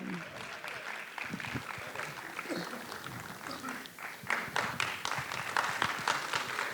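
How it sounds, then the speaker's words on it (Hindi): An audience applauds as performers of the play Dulari Bai gather on stage, steady clapping with scattered cheers and crowd murmur, a voice speaking over it and the clapping growing louder in the final seconds. "आपकी तालियां रुके नहीं"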